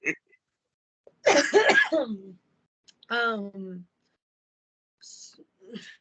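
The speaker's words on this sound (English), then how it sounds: "I knew it was gonna make me cough." A few rough throat-clearing coughs after smoking, in separate bursts, close to the microphone, with short pauses of silence between them.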